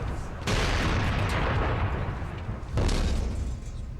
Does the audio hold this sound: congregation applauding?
no